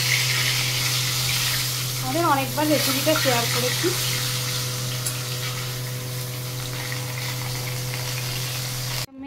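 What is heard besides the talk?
fish frying in a pan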